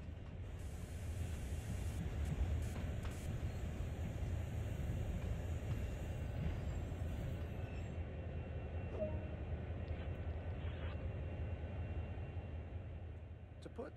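A freight train in the Train Sim World video game slows to a stop, with a steady low rumble and mechanical hum that continue throughout and fade slightly at the end, and a voice speaks over it.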